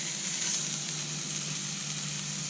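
Steaks coated in Montreal steak seasoning sizzle in a pan at a camp stove while tent camping in Ohio, a steady close hiss of frying that holds evenly throughout.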